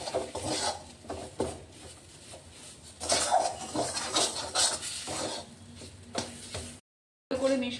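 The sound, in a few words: stirring pea filling in a wok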